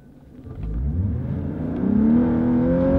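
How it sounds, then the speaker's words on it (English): A Lexus launching hard from a standstill in electric mode, its whir and engine note rising steadily in pitch as it gathers speed, loud and close with no talk. "turn the engine up, it's on electric mode, and we're gonna launch it"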